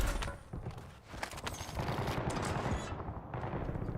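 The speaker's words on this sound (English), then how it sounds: "I can hear footsteps and gunshots in every single direction." Rapid bursts of gunfire crackle through a solo round of a shooter video game, dense volleys overlapping in quick succession, some near and some distant, with no voices over them.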